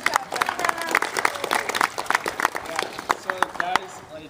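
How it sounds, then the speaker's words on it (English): Small audience clapping for a young swimmer at a pool swim lesson, a scattered patter of quick, uneven hand claps lasting a few seconds at moderate distance. "Let's give her a round of applause."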